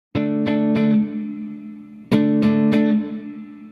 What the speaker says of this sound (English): Now with reverb.